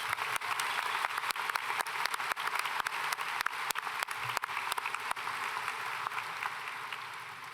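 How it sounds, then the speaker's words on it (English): Sustained applause from a graduation crowd at a high school ceremony, honoring the music programs; dense, steady clapping with sharp individual claps standing out throughout. "One more round of applause for both of our music programs."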